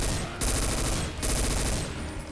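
Rapid automatic bursts from an SG-552 rifle in Garry's Mod VR, two dense strings of gunfire firing close and loud, separated by a brief gap, with no talk over them.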